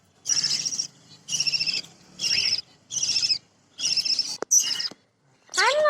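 Pet birds, a mother and father tending their chicks, give a series of six close, bright, repeated calls in an even rhythm, with short pauses between them and a sharp whistle at the end.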